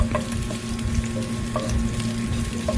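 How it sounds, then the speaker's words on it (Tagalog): Garlic and onion sautéing in a pan for menudo, a steady close sizzle and fry noise with a low hum beneath and a few faint clinks of stirring. "gisa tayo ng bawang sibuyas"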